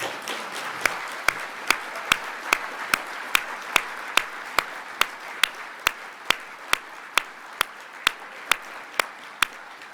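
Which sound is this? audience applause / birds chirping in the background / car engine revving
audience applause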